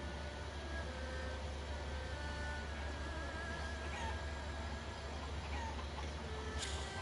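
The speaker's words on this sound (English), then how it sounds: "Try catching 10 of those chickens." Chickens clucking in the Shenmue III video game, faint scattered clucks over a constant low background hum, with no talking.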